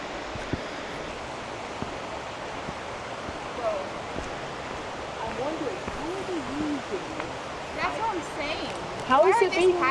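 A creek near a canal rushes in a continuous, broad wash of flowing water that is steady and fairly loud. People talk quietly over it at times, and a few brief bird chirps come near the end.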